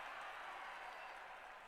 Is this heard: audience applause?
yes